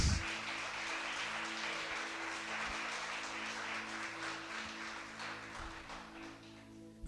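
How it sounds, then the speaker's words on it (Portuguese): A church congregation applauds in worship, a long, even spatter of many hands filling the room, fairly quiet and distant, with a low sustained tone beneath it throughout. "Aplauda o seu Jesus."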